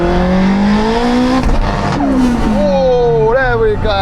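Honda Integra Type R and Porsche 918 Spyder accelerating hard side by side in a rolling half-mile drag race from about 50, engines howling loud and close, their pitch climbing through the gears with brief dips at shifts.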